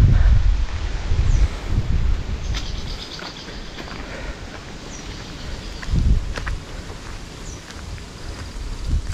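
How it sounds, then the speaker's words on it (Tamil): Strong wind gusting across an open mountainside in forest country, a steady loud roar with buffeting surges on the microphone and faint insect-like chirps in the background, no voices. "உங்களுக்கு கேமராவில் காற்று சவுண்டு கேட்குதுன்னு நினைக்கிறேன்"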